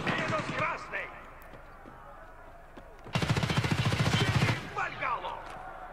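Rapid automatic fire from an HK rifle in Escape from Tarkov Arena, a loud sustained burst of about a second and a half cutting through quieter game ambience, with brief talk before and after.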